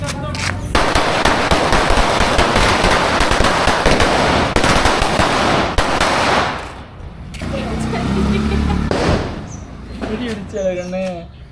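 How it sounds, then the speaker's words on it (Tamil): A string of Diwali firecrackers goes off in a dense, loud crackling burst lasting several seconds. Scattered louder pops and voices follow as it dies away. "ஃபஸ்ட்டு இந்த சரவெடி வெடிக்கலாம்."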